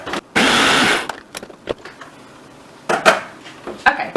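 Dry salt and flour stirred in a mixing bowl for a strawberry pie crust, a steady scraping swish near the start, then scattered clinks and taps of a utensil against the bowl.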